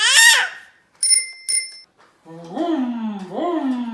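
A child rings a bicycle bell twice in quick succession with bright metallic dings, between a brief high voice before and a child's engine-noise imitation afterward.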